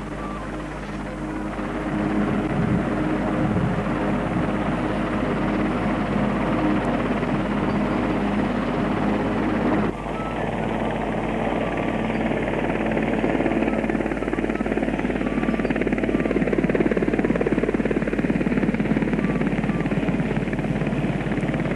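A helicopter delivering a new church spire in 1969, a loud, continuous rotor and engine roar that holds steady throughout and stays close without fading.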